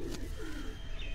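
Pigeons coo briefly on a rooftop loft, a soft, low, throaty burble lasting about a second under a steady background hum.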